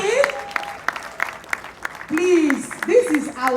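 An audience claps for a comedian at a 40th birthday celebration. Scattered, sparse claps sound under a loud, tuneful voice that keeps speaking or chanting over them.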